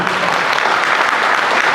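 Audience at an inauguration event bursts into loud, dense applause for Fr Binoj, continuous hand clapping filling the room for a short stretch.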